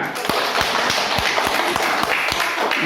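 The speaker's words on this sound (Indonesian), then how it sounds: "Tepuk tangan." A class of schoolchildren claps hands together in a brief burst of rhythmic, evenly spaced claps, loud and close, with some background chatter.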